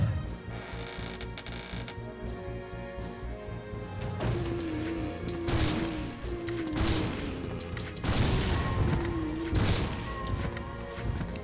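Resident Evil Survivor 2 – Code: Veronica gunfire, exploding zombies and booms and crashes in repeated bursts over a steady background of game music and effects.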